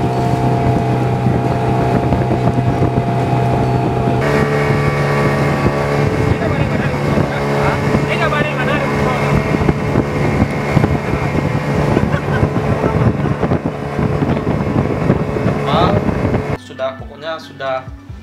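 A boat engine drones loud and steady with wind buffeting the microphone during a ride along the coast south of Padang, the engine tone shifting partway and cutting out near the end.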